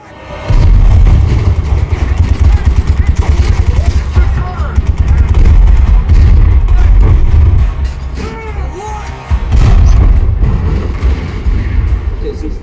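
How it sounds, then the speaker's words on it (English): Tank cannon blasts and battle rumble play through an SVS SB3000 subwoofer, a loud, continuous wall of deep booms and low-end rumble with dense explosions lasting the whole stretch. "If you're not getting Tarzan chest-thumping bass here during all those tank blasts"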